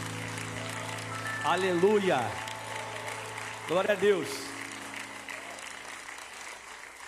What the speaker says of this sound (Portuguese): aplauda o mais forte que você pode aos céus